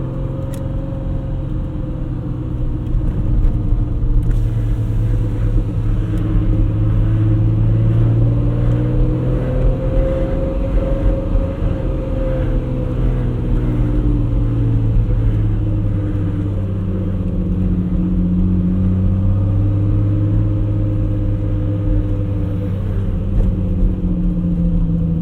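A 1981 BMW M1 driving on the street, its engine droning and rising and falling through gear changes for a sustained stretch, loud and close from the cabin, with no voices.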